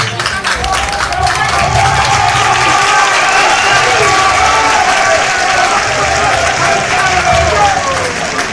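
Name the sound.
audience applause for an honoree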